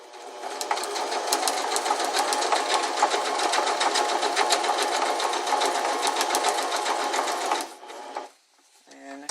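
A sewing machine runs steadily, stitching fold-over elastic onto fabric in a fast, even burst of needle strokes lasting several seconds, then stops with a brief pause and a short restart.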